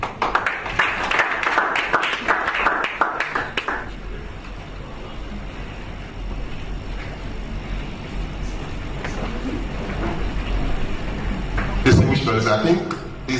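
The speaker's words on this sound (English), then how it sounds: "I think this panel deserves a bigger round of applause" A round of applause for a panel at a bar association litigation seminar: clapping bursts at the start and again near the end, with a murmur of voices and room noise between them.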